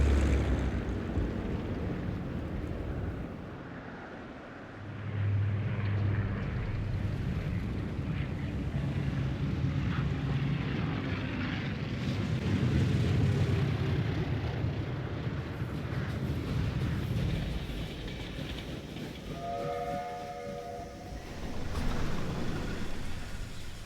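Aircraft flying in the video game Indiana Jones and the Great Circle: a low, steady engine drone with wind-like rushing, moderately loud and continuous throughout, with no voices.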